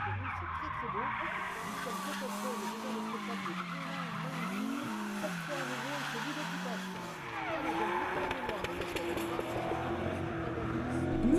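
Tandem drift cars, a white Nissan Skyline and a blue BMW M5, skid with long wavering tire squeal and revving engines at a French drift championship round in Salbris, with a commentator talking over the noise throughout.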